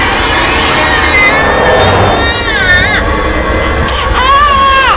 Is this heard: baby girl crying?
yes